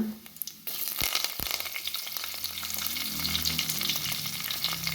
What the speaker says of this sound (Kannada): ಅದು ಸ್ವಲ್ಪ ಫ್ರೈ ಆಗಲಿ ಫ್ರೈ ಆಗಲಿ